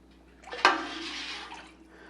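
Homemade beef stock pours through a strainer in a short splashing gush that starts with a sharp hit and then trickles and fades.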